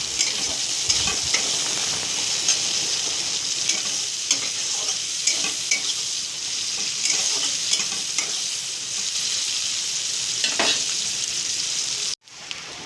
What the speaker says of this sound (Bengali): পেঁয়াজগুলি দিয়ে বেশ ভালো করে নাড়াচাড়া করে পেঁয়াজগুলিকেও লালচে করে ভেজে নেব।